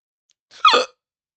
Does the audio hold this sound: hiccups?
yes